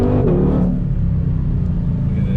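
A 2020 Ford Mustang Shelby GT500 engine under throttle gives a loud, steady low rumble that fills the whole clip with no voices over it.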